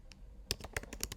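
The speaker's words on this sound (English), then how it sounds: "Now you want to type" Quick bursts of keystrokes on a computer keyboard as a command is entered on a Raspberry Pi, irregular close clicks over about a second with no voices.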